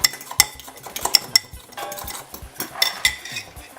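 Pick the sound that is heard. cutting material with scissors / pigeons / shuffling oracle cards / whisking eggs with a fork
whisking eggs with a fork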